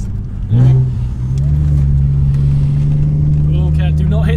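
An Alfa Romeo 147 GTA with its Busso V6 blips sharply, then settles into a loud, steady, deep engine drone heard from inside the car, with voices talking over it toward the end.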